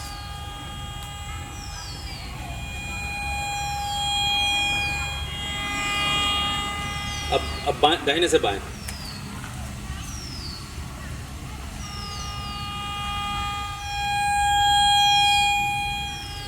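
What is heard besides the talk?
metal detector sounding over a metallic target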